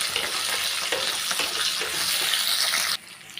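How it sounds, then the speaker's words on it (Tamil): Coconut pieces frying with coriander ingredients in a pan, a loud, dense crackling sizzle with stirring scrapes, close, cutting off sharply near the end. "ஒரு ரெண்டு பீஸ் அளவு வந்து தேங்காய் எடுத்துருக்கேங்க அதையும் சேர்த்துக்கிறேன் எல்லாமே நல்லா வதக்கிக்கிடலாம்"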